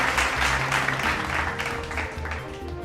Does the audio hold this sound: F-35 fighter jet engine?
no